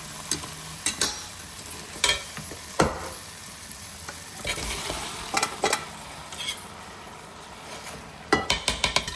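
Mutton sizzling in a hot pan while a utensil stirs and scrapes through it, with repeated clanks against the metal and a steady frying hiss.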